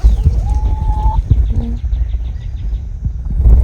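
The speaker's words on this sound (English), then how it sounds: "Chickens are really noisy today." Backyard chickens in a garden cluck and call noisily nearby, with short tonal squawks over a rumbling outdoor background.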